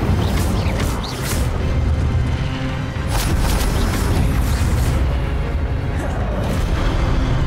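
Repeated Incendio fire spells in Hogwarts Legacy, cast against groups of zombies, burst out as loud whooshing blasts and booms in quick succession within dense game combat noise.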